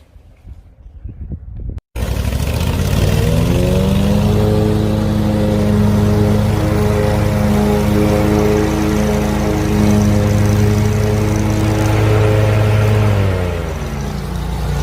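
A lawn mower engine drones steadily and loudly up close, starting abruptly after a brief quiet moment and holding an even pitch throughout, as it passes over a downspout pop-up emitter lid.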